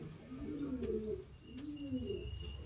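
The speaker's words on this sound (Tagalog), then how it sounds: "Bunny Indian Pigeon mga tol" Indian pigeon cooing in two soft, low, rounded phrases, close and fairly quiet, with faint background hiss and no talking.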